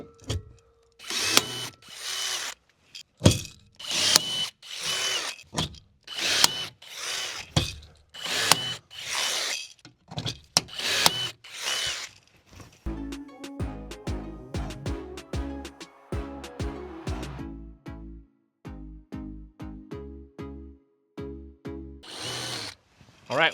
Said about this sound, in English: Just go ahead and grab your rivet gun and pop these into place.